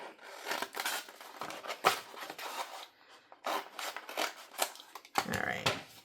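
Scissors snipping apart pieces of craft vinyl, a string of short crisp cuts broken by brief pauses, close and clear with light rustling between the cuts.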